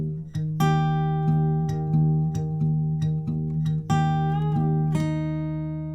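Plucked acoustic guitar notes ring out in a steady fingerpicking pattern over a sustained low bass note, clear and close, with no talking.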